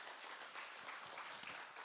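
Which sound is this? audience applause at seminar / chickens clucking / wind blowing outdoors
audience applause at seminar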